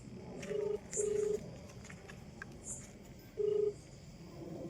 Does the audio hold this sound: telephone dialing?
yes